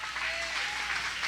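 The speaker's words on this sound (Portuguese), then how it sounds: "Aplauda bem forte ao Senhor." A church congregation applauds, a brief burst of dense clapping from many hands, fairly quiet and distant with a faint tone running under it.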